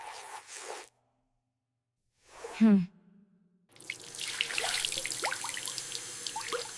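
Tap water running into a sink, a steady splashing stream that starts about halfway through and continues to the end, preceded by a few brief, faint household sounds and a short pause.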